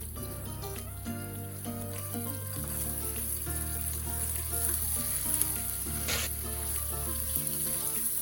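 Carrot and capsicum pieces frying in a pan for South Indian mixed vegetable khichdi, a loud continuous sizzle layered with background music, with a brief splash-like burst midway.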